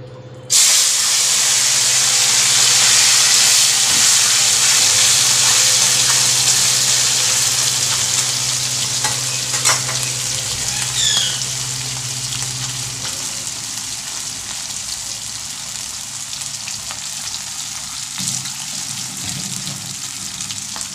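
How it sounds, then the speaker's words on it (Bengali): Puti fish fry in oil in a pan for a sour puti curry, a loud, steady sizzle and hiss that runs throughout and eases slightly in the second half, with no talking. "এবার মাছগুলো আমি সব ভাজতে থাকবো।"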